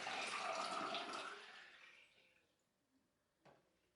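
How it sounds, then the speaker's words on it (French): Water pours steadily into a glass jar for about two seconds, a broad splashing rush that tapers off into quiet, followed by a single small knock near the end. "ce qu'on va faire, c'est qu'on va verser l'eau dans notre bocal"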